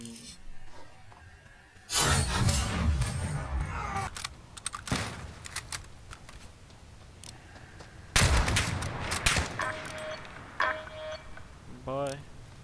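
Gunfire in Call of Duty Warzone at the Verdansk stadium: loud bursts of rapid shots and sharp cracks mixed with game effects, while players talk over the action.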